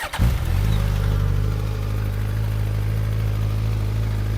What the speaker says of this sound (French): Je ne résiste pas à l'envie de démarrer le moteur,